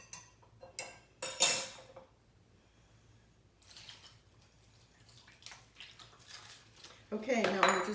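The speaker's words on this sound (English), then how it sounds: "now we're just going to mix it by hand" Wet squishing and clinking in a bowl as stuffed cabbage filling is mixed by hand, with scattered handling sounds and a louder burst of clatter near the end.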